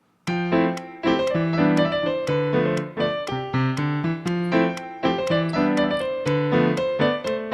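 The Undertale shop tune played at 120 BPM on a synth keyboard: a bright, bouncy run of chords and melody notes in a steady quick rhythm, loud and clear with nothing else over it.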